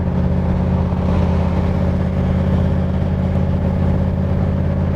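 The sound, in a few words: 1965 Shelby Cobra replica Superformance MKIII car driving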